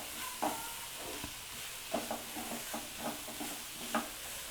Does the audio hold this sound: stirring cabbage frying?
yes